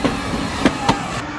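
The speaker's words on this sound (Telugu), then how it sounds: "అయ్యో ట్రైన్ స్టార్ట్ అయింది," A train pulls away from a station in a Telugu film comedy scene, with a low rolling rumble and a couple of heavy wheel clunks spaced apart, moderately close.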